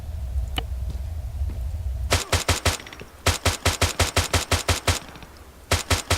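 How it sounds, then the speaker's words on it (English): Rapid bursts of rifle fire from a test-fired futuristic rifle in Arma 3's OPTRE mod, loud, close and crisp, coming in tight rhythmic volleys with brief pauses between strings of shots, no talking. "Now let's test fire it."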